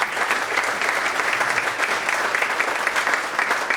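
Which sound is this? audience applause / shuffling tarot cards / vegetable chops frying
audience applause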